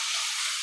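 Bhuna onions for a British Indian restaurant-style king prawn saagwala sizzle in hot oil, a loud, bright, even hiss that holds steady through a brief moment.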